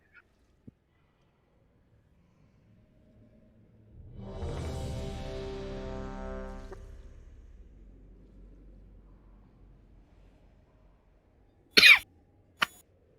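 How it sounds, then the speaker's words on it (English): A single muffled, suppressed cough sits amid quiet background game audio during a World of Warcraft raid in the Sanctum of Domination, with a low droning swell in the middle and two sharp short clicks near the end. "A single suppressed cough."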